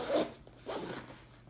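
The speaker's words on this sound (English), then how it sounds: "these zippers, I've worn them out" A worn zipper on a bag's large pocket is pulled in two quick, close rasping strokes, the first slightly louder, with a short pause between them and no talking.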